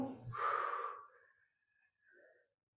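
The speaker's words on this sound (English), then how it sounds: "Exhale." A trainer's single forceful exhale during a second-position squat in a band-and-tubing sculpt class, a breathy burst lasting about a second, followed by a short softer breath.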